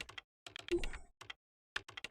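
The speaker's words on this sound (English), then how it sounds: "And he's just typing away and ignoring us." Computer keyboard typing in the Parasite Eve video game comes in short, clustered bursts of clicks with brief silent gaps, close and fairly quiet.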